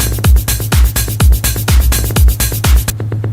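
A techno drum pattern programmed in Logic Pro X thumps with punchy kicks about every half second, over busy hi-hats and a triplet fill at the end of the bar. It is loud and close, then stops abruptly.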